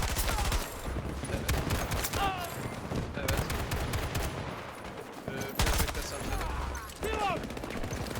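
Gunfire in the video game Battlefield 2042 keeps up almost continuously as dense automatic bursts, loud and close, with a few brief lulls. Players talk over the shooting.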